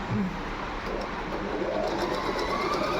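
A domestic sewing machine stitches a four-step buttonhole, its steady continuous whirring running throughout at a constant close level with no voices.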